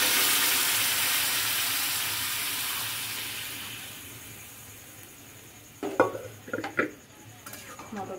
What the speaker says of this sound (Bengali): তো এবার আমি মটরটা দিয়ে নিচ্ছি।